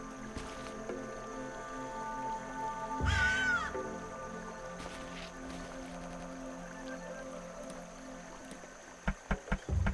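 Birds in The Night of the Rabbit game give a loud rising squawk near the start, with faint chirps and ambient outdoor game tones around them and a few soft thumps near the end.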